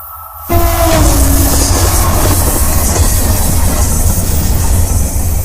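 Mavis, a diesel locomotive running on biofuel, rumbles past loud and close with a steady clatter, and a short tonal horn note sounds near the start.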